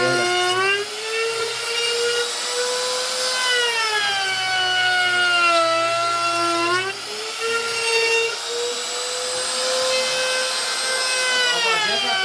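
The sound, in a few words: wood router cutting a wooden slab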